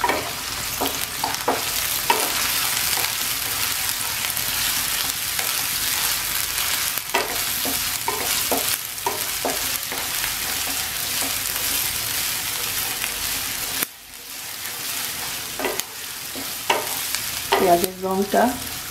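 Sliced onions and green chillies fry in hot oil in a wok, a steady close sizzle with repeated scraping stirs, a brief drop near the end before frying resumes, no talking.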